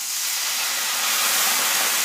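Marsala wine poured into a hot pan for pasta carbonara hisses and sizzles in a steady, close, continuous wash of steam with no pause.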